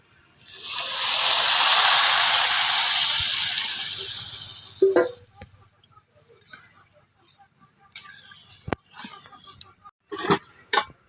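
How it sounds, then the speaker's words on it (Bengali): Water poured onto frying pilau rice in a hot pot, giving a loud surging hiss for a few seconds that fades, followed by scattered clinks and taps of utensils. "এখন দিয়ে দিব পানি"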